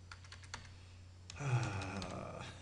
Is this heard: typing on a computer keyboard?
yes